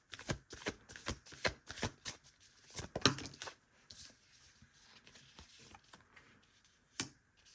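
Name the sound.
tarot cards being shuffled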